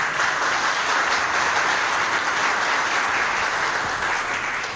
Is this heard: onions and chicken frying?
no